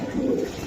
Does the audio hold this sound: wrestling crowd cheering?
no